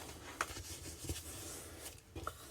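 Paper being scored along fold lines for a pull-tab cascade page craft, soft rubbing and scraping strokes with a few sharper ticks, quiet and close, repeated in a steady back-and-forth rhythm.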